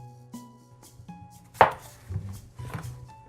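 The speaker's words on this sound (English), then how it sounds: "Simply just gonna cut these in half and then put them into the pot." A kitchen knife cuts whole potatoes in half on a cutting board while making a Korean spicy chicken stew, giving a few distinct thuds with one sharp loud chop in the middle against quiet background hum.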